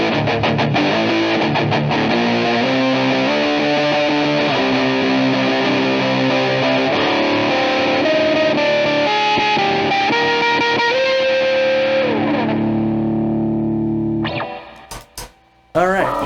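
Electric guitar played through a Behringer Ultra Metal UM300 distortion pedal in a looped riff: thick, saturated chords and sustained notes, loud and steady for about fourteen seconds before cutting off, followed by a few short stray plucks.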